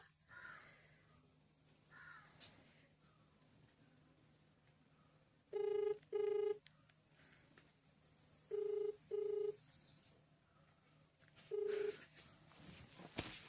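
A telephone ringing tone sounds in short paired pulses, three times, over a quiet background with a faint distant caw.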